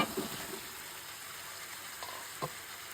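Sweet pumpkin frying in cooked spice paste, a steady hissing sizzle close by, with a couple of soft stirring knocks at the start and near the end, no voices.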